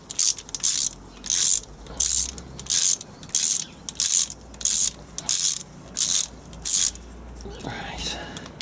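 A ratchet snugs bolts on a Land Rover Defender TD5 LT230 transfer box, giving about a dozen evenly spaced bursts of rapid close clicking, with a quiet rubbing sound at the end.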